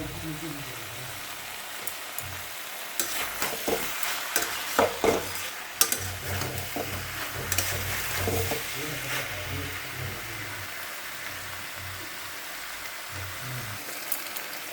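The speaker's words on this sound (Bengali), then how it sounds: "এতে কাঁঠালটা আমার কষানো হয়ে যাচ্ছে।" Jackfruit being sautéed in a pan with onion, ginger, cumin and chilli, giving a steady soft sizzle broken by scraping stirs and clinks of a spoon against the pan, close by.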